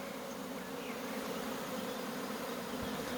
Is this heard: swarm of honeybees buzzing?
yes